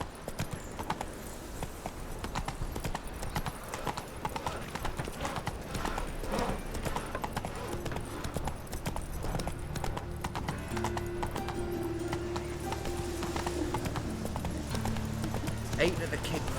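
Horse hooves clip-clop in a steady galloping rhythm from a mount in The Witcher 3 video game, close and continuous, layered over game music and ambient sound with occasional talk.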